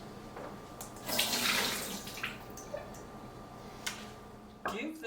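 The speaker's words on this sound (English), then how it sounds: "We need to strain our cashews." Soaked cashews strained in a kitchen, with water splashing and draining into a sink in a fairly loud burst that tapers into softer trickling, followed by a few clinks of a container.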